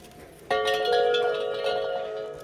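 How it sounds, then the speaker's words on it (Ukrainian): Assorted bells at an outdoor market stall ring out together with a bright, shimmering tone, starting abruptly and sustaining as overlapping chimes that gradually fade, fairly close and loud. "Бачите, як гарно дзвонять."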